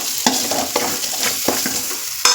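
Masala frying in oil for masala rice, stirred briskly with repeated spatula scrapes and taps against the pan over a continuous close sizzle.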